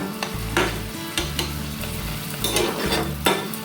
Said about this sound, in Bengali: আমগুলো মোটামুটি সেদ্ধ হয়ে এসেছে আর একটু সেদ্ধ হবে